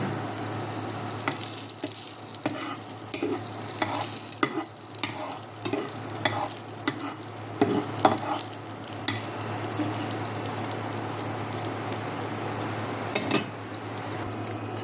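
Bay leaf and two dried red chillies frying in hot oil in a home kitchen pan, a steady sizzle broken by scattered clatters and scraping stirs, with running water and sink sounds nearby.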